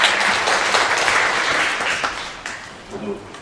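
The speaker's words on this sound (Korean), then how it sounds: "박수로 맞이하여 주시기 바랍니다" An audience claps to welcome a presenter at a Korean forum on reusing abandoned hanok houses, a loud burst of applause that gradually thins out, with a voice starting near the end.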